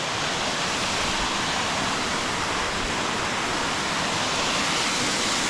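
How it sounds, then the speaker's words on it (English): A waterfall on a trail in the Smoky Mountains roars in a steady, full broadband rush that stays constant throughout, with no voices over it. "Another shot of the waterfall."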